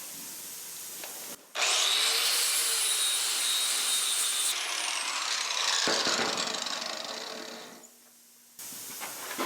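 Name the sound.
60 grit flap disc grinding metal bar corners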